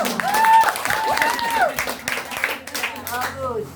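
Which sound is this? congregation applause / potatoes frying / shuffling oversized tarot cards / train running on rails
congregation applause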